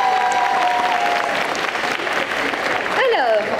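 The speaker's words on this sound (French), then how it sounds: "Et on l'applaudit bien fort." An audience at a cosplay parade during a Japan manga festival in Quimper claps steadily, a full crowd of applause with a presenter's voice and some cheering rising over it near the end.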